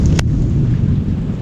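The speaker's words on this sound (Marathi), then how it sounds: "एवढा पाऊस पडला आज, पडतोय पण वाजत गाजत पडतोय आज पाऊस" Heavy monsoon rain during a village thunderstorm, a loud dense roar of rainfall with deep rumbling throughout and a brief crack near the start, no speech.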